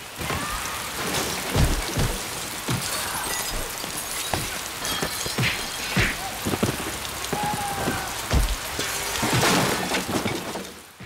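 Heavy rain falls continuously in Piofiore: Fated Memories, a thick wash of drops striking surfaces, punctuated by repeated deep thunder thumps and cracks scattered throughout.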